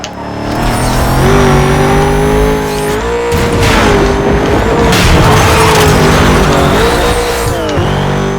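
A BMW M3 race car in Need for Speed Most Wanted (2005) roars loudly and continuously, its engine pitch climbing and shifting through gears, with brief tire squeals over the sustained drone.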